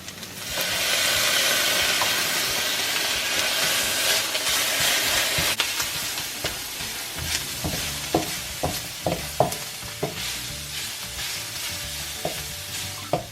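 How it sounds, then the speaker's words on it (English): About a tablespoon of minced garlic sizzles in a pan of oil for pancit, a loud, close, hissing crackle that settles into a steady fry with a run of sharp stirring clacks against the pan. "Next you're going to want to add about a tablespoon of minced garlic."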